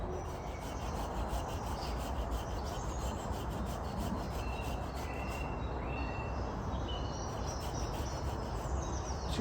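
Steady rasping, rubbing cuts into a wooden post, notching it for a cross beam on a pallet-wood cabin frame, continuous and fairly close with faint high insect-like chirps in the background.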